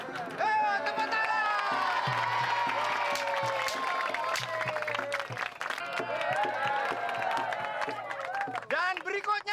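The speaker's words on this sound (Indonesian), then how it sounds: "Tepuk tangan." An audience claps and cheers steadily through a kuda lumping act on a comedy stage show, mixed with loud music and crowd noise for nearly ten seconds.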